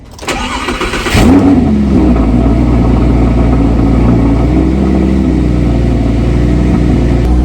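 A Lamborghini engine starts with a sharp rising rev, then drops into a deep, steady idle rumble, loud and close.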